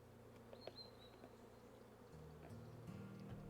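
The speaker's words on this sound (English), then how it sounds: "I hear bees." Bees buzz softly around an apiary in the game Wytchwood, a faint steady drone set against low background music and ambience.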